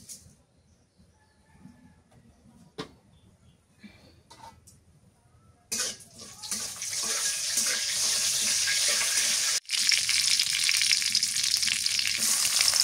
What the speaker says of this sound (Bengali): তেল দিয়ে দিই। পাঁচফোড়ন দিয়ে দিই।